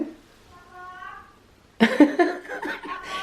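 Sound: cat meowing for food

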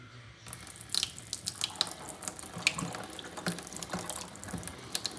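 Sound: water running from a tap at low pressure

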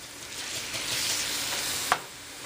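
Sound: spaghetti squash tossed into a sizzling pan

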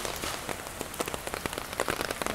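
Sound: rain falling on a street in Nakameguro

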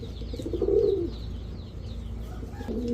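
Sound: pigeons cooing

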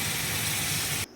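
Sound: hot water poured into pot

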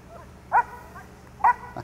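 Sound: dog barking during obedience and protection training

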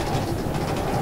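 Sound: train sound in Minecraft video game

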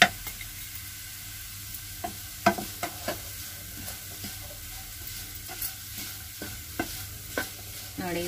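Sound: potato fry stirred in a pan while frying

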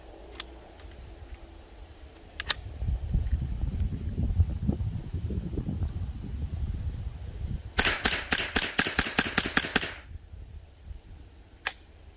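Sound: gunshots in quick succession

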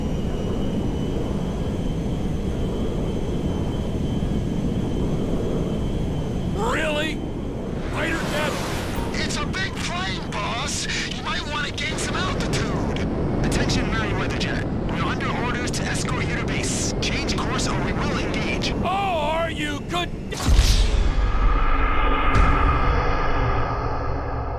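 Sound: cargo jet flying, from the video game GTA V

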